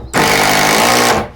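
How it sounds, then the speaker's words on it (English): A power driver drives a hefty 70mm screw into a wooden stud, one loud continuous whirring grind lasting about a second, close up and alone. "Let me show you what happens if I just screw this to the stud"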